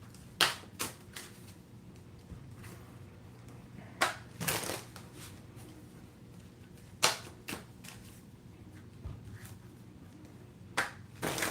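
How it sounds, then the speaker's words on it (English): A deck of tarot cards is shuffled in a few short riffling bursts with quiet gaps between them, close and fairly soft, with no talking. "Maybe I should shuffle before we do the next one."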